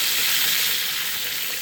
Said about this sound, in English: The avocado salami is, of course, frying up nicely with all this oil here.